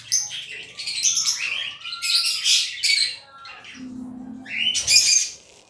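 African lovebirds in a breeding setup chirp and squawk in bright, busy bursts, with a short low buzzy call partway through; near and fairly loud, no talk.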